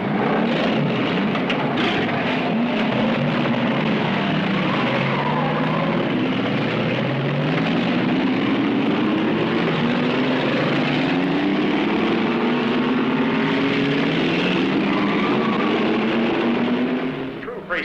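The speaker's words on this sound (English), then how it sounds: "gentlemen, start your engines" Several 1966 Chevrolet stunt cars fire up and roar off in a stunt driving show, a dense steady engine drone with rising and falling revving tones, loud and continuous, with an announcer's voice over it.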